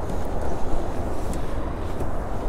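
Strong wind buffeting the microphone outdoors, a loud continuous low rumble with gusty swells and no voices.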